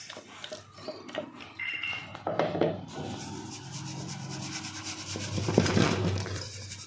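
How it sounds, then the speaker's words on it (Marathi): Ground poha and roasted gram flour, blended for chakli, being sieved by hand, giving a continuous close scraping and rubbing sound with uneven swells and no speech. "आता हे चाळून घ्यायचं आहे"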